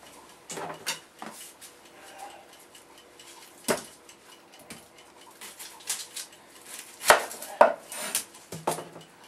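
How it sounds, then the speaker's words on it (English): A sharp knife cuts a chunk from an onion on a cutting board, giving scattered crisp chops and board knocks with a few louder taps, close by and with no voices. "Place an onion on a cutting board. And with a good sharp knife, take a chunk out vertically."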